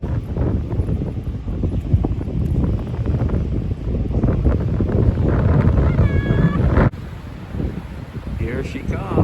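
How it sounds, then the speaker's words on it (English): Strong, cold wind gusts across Wreck Beach, roaring and buffeting the microphone in heavy low rumbles for most of the stretch, easing somewhat near the end. "I don't know if you can really tell how fast and cold the wind is."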